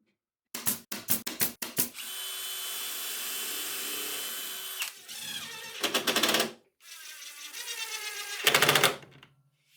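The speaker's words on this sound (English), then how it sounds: "then drive in screws without glue this time" Screws driven into 3/4 inch plywood with a power driver in a small workshop: a burst of short rapid whirs, then a long steady drive, followed by several shorter bursts, close and loud with no talking.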